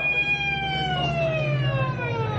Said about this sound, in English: Let the ambulance through.